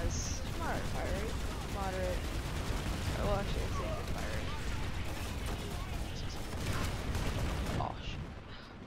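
LA1 Anchor heavy-assault gun firing in PlanetSide 2 at a moderate rate, a dense, continuous clatter of shots and battle noise running through the whole stretch, with voices mixed in.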